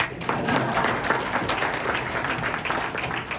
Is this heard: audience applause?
yes